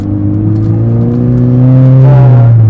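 A Subaru BRZ fitted with an STi flexible front strut tower bar drives with a loud, steady engine drone heard from inside, its pitch rising slightly near the end as it accelerates; no voices.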